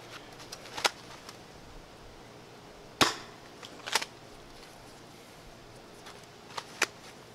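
Foam darts fired from a Frantz Foam Works Carbine X-100 blaster, shot from the hip, make sharp isolated pops with a couple of quieter clicks between, spaced a second or more apart in a quiet room.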